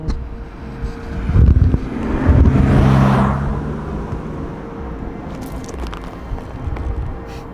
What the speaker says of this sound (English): let this car pass.